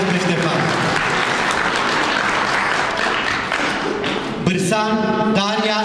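Audience applauding participants on a stage: dense, sustained clapping from a crowd that fills the room, fading slightly before a voice speaks briefly over the tail end.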